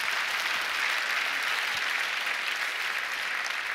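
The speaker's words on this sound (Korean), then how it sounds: "하나님 앞에 박수 올리겠습니다." A church congregation applauds to God during a prayer-meeting service, a dense, steady wash of clapping that holds at an even loudness throughout.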